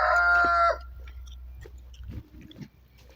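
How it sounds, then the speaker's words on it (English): Farm chickens with a rooster crowing loudly at the start, then scattered soft clucks and small scuffling sounds close by outdoors. "that was the chickens"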